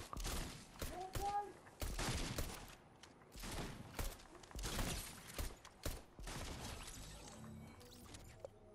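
Loud video game gunfire rattles out in several rapid bursts and volleys with short pauses between them, while voices come and go underneath.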